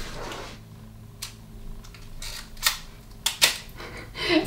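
A thrift store film camera being worked by hand: a few sharp mechanical clicks of the shutter firing and the film advancing, spaced apart over a quiet background, close and fairly crisp.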